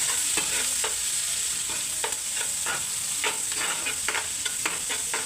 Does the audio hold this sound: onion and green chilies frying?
yes